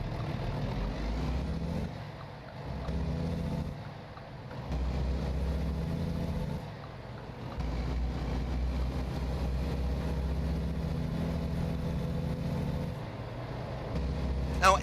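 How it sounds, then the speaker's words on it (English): A Volvo truck's engine in American Truck Simulator drones with a deep, steady rumble, dipping briefly between gear changes and engine-brake passages before holding a sustained bassy tone. "the engine brake, it sounds like it's a little more poofy, maybe a touch more bass to it"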